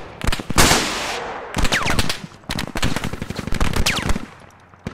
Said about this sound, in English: Enemy firing,